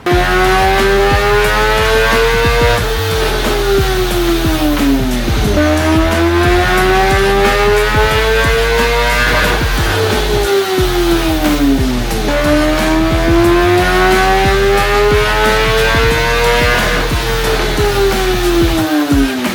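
A 2022 BMW S1000RR motorcycle engine revs hard on a dyno during a baseline run, loud and continuous, its pitch climbing through repeated sweeps with brief dips between pulls and no talking.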